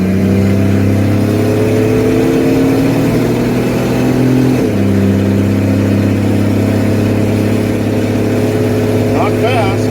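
A car climbing a hill in third gear, its newly swapped carburetor engine revving hard and loud throughout with a steady droning roar and a brief shift midway, heard from inside the cabin with people talking over it.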